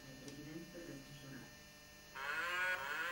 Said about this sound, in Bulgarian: Кравата прави му.